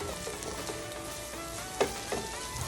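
Julienned jalapeños and onions sizzle steadily in a hot pan, a constant close frying hiss with one brief clatter of stirring near the middle and no talking.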